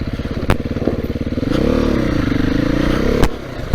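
Beta 430 RR-S dirt bike, a 2022 model, lugging low with a steady rumbling thump, a short swell of louder engine drone in the middle, and a few sharp knocks or clatters breaking through.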